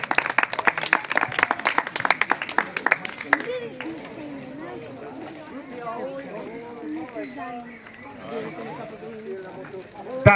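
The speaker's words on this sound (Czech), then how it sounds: "Zatleskáme jim." An audience claps briskly for the top three girl runners in a children's category at a running race, a dense burst of applause lasting a few seconds before voices and talk take over.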